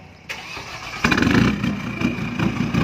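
A Chevrolet RS 2020 limited-edition car's engine cranks and starts, catching into a loud, close, rough idle with repeated throaty revs and a pulsing exhaust note throughout.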